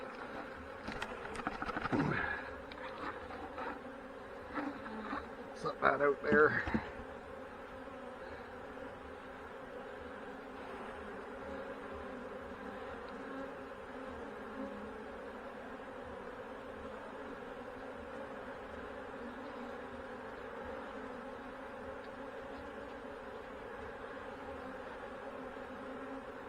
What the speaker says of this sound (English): There's still a good number of bees that was hanging around that bird comb.